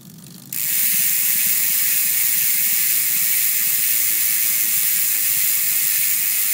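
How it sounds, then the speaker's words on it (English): An ARC MT009 bicycle hub freewheeling, giving a fine, rapid, continuous ratchet clicking that sets in loudly after a brief quieter start and whirs on steadily without talk. "Medyo pino yung tunog na napoproduce ng hubs na to."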